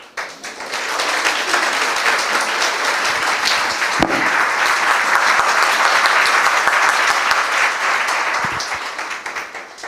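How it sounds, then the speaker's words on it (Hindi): Loud, sustained applause from a church audience at a Christian gathering, many hands clapping densely for about ten seconds after a quick swell, with a few louder claps near the middle before fading at the end. "ये यीशु के लिए ताली बजाएंगे।"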